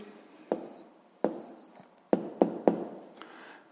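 A pen writing an answer by hand on paper for a sixth-grade maths exercise, with soft, close scratching and several distinct taps as strokes begin, quiet and alone.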